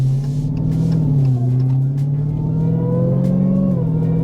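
A 2021 Dodge Challenger Hellcat Super Stock engine revs and holds a deep, steady rumble, pitch rising and falling slightly, loud and close throughout.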